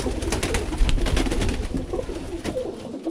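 Birmingham Roller pigeons cooing in a loft, a steady low murmuring coo that carries on through the whole stretch, fairly close and continuous, with soft rustling and no voices.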